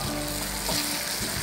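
Tomatoes frying with onions in a pan for seeni sambol, a steady broadband sizzle with soft stirring movements, fairly close and alone without talk.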